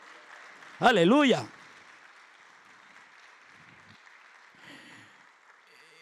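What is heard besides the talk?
congregation applause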